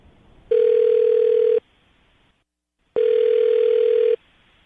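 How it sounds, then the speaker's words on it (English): A steady telephone dial tone sounds in two long bursts of about a second each, separated by a short silent gap, loud and clean. "I'm going to dial the phone number right now"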